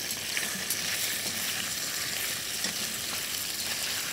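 Onion, leek and carrot frying in a pot for aromatic flavour, a steady close sizzle with soft crackles throughout and no voices.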